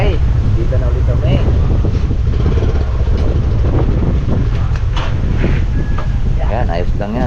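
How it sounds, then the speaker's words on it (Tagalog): Strong wind buffets an outdoor microphone in a continuous, loud low roar that runs throughout, with people talking over it. "Lakas ng hangin ah."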